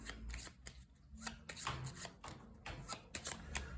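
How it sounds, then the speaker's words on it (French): Enemy cards from the Tiny Epic Defenders board game being shuffled by hand at a table: close, rapid riffling and slapping bursts that repeat throughout the few seconds. "Mélanger et placer 3 cartes ennemies."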